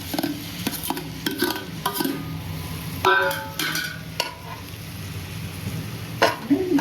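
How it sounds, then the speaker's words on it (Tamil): Tomatoes being stirred into chicken curry in a pan: repeated scraping and clattering strokes of a spoon against metal, loud and close, over a low sizzle with occasional voices in the background. "நாங்கள் அடுத்து தக்காளி போட போகிறோம்."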